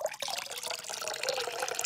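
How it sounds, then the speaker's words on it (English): Water pouring into a water bottle as a sound effect, a steady close trickling and gurgling stream with bright splashy detail, running alone without any voices. "it is a sound effect of pouring water in a water bottle."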